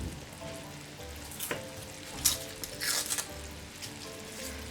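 Butter going into hot melted sugar for a tarte Tatin, giving a soft sizzle with faint scraping and stirring clatter. A few sharper pops and crackles stand out near the middle.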